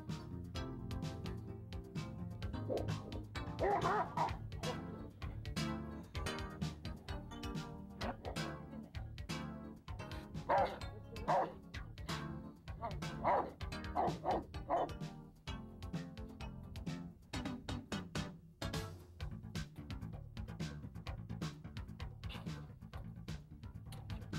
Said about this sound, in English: if an attack dog starts to bite and is sprayed